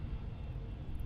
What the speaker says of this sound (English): we can hear the airplanes, but we can't see them